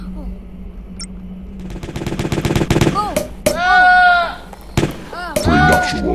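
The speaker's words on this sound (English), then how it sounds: "Cork launcher." A cork launcher fires in the comedic video game Jazzpunk. Several quick popping bursts are followed by squeaky, bleating, warbling game sounds, all loud and close.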